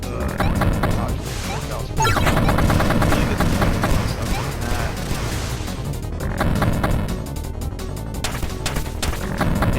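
Gunfire hitting a boss in the video game Jet Set Knights, rapid bursts of shots and crashing impacts layered over game music, continuous and loud, with someone talking throughout.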